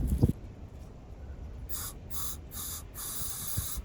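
Starting fluid sprayed into the carburetor of a pressure washer engine that won't fire: four short, loud aerosol hisses in quick succession after a faint clunk, close up with no talking.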